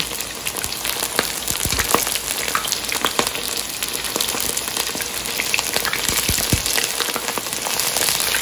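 Chicken 65 pieces fry in hot oil, giving a loud, steady bubbling sizzle with scattered sharp pops and crackles throughout, with no voices.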